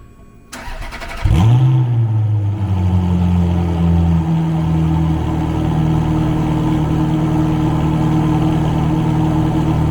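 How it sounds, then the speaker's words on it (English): A Ferrari 430 Scuderia with aftermarket exhaust starts from cold: a sharp crank and loud bark as the engine fires, then a high, steady fast idle that holds close and strong to the end. "So that was a cold start."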